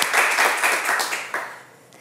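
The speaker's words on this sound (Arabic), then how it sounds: "تصفيق على انيس" A studio audience breaks into a short burst of dense clapping and applause, which fades out after about two seconds.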